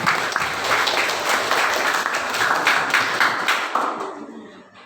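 Steady, dense applause from a school audience at a high school student council candidate debate at SMA Negeri 3 Amlapura, applauding both candidate pairs and fading out near the end.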